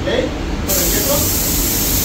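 Spray gun laying down a paint base coat, a loud steady hiss that kicks in sharply and runs continuously, with a voice talking nearby at the start.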